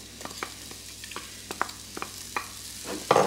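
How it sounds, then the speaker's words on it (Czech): Onion frying in hot oil in a small pan for a pork tenderloin dish, a steady close sizzle with repeated stirring scrapes and taps. "Osmažíme si cibulku."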